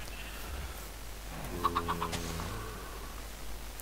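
Chickens in Minecraft give a short burst of clucks midway, a few quick faint calls over a low steady background hum.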